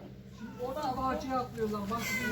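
A house cat meows a few times, close and clear, while someone speaks and calls to it.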